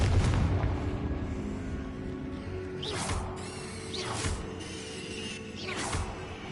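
Repeated fiery blasts of the Confringo explosion spell in a Harry Potter video game, about three booming bursts spaced a second or so apart over a continuous low rumbling game ambience inside a tomb.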